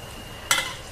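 Battered bananas hit hot oil in a pan, giving one sudden loud sizzle that fades over half a second.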